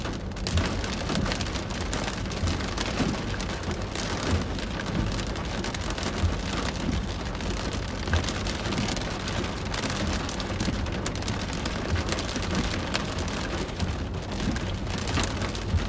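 Steady heavy rain from a storm in Colorado Springs pours onto surfaces, a dense, loud, unbroken hiss that runs the whole time with no voices.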